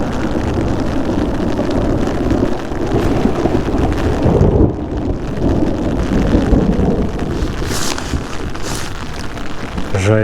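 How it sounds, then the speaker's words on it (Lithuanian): Storm weather at the NEO Rally Žemaitija 2026 rally: a deep, rolling rumble of thunder over constant heavy rain and wind buffeting, swelling and easing across the span, with no clear speech. "Žaibuoja, griaudėja."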